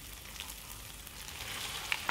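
Small pieces of chicken breast sizzle in a pan with garlic and crushed chilies for a Thai noodle dish, giving a steady, soft frying hiss with no talking.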